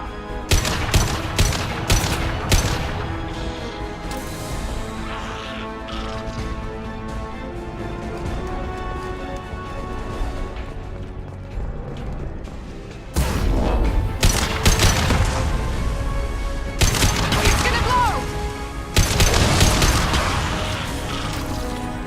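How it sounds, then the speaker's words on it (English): Weapons fire during Mass Effect 2 combat, with bursts of rapid shots and heavy impacts, a quieter lull in the middle, then loud clustered volleys returning near the end, with no talk. "Firing a high-impact shot!"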